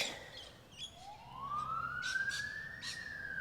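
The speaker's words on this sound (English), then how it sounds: "the sirens are going past" A siren wails upward and holds its tone as an emergency vehicle passes at some distance, with faint background noise underneath.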